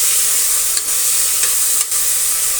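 Tomatoes with coriander and mint leaves fry in hot oil in a pressure cooker for paneer biryani. A steady, close hiss runs throughout, broken by a few soft stirring scrapes, with no voices.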